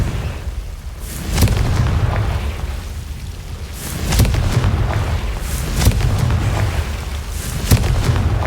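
Repeated Confringo fire-blast spells go off in the Hogwarts Legacy video game, each a loud, deep booming explosion with a rumbling tail, several in quick succession over a continuous low roar.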